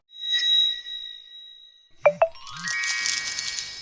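A phone chimes twice in quick succession after a payment QR code is scanned, a clear bright ding, then a longer jingling tone follows, no talk.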